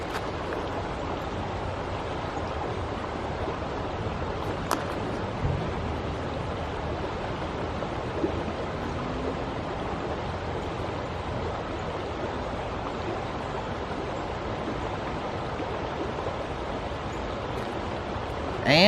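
Moving river water at Falls Park in Pendleton, Indiana, a steady broadband rush of flowing water heard close and continuous, with a few faint knocks and no voices.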